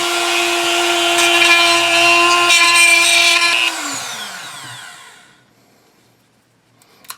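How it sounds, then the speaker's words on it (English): A Dremel rotary tool with a round ball cutter grinding an AKM handguard, a loud high whine close up that winds down and fades to silence, ending with a small click. "I'm using a Dremel with a round ball cutter, and I'll just go around."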